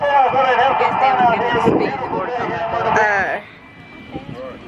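A jet car roars on an air show runway, a loud, continuous engine rumble with a strong whine that cuts off abruptly near the end, heard under a commentator's talk.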